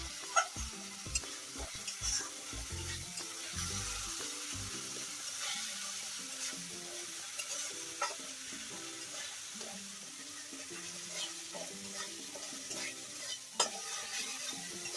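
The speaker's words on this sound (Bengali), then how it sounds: "এবারে আমি এটাকে মশলার সাথে মিশিয়ে দেবো।" Catla fish pieces mixed with spices and salt as they fry in oil in a pan: a steady sizzle under light repeated stirring scrapes, close and moderate, with no talk.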